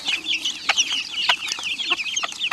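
Farmyard chicks about two and a half weeks old peep constantly in high, rapid chirps, mixed with short clucks from hens nearby, close and lively.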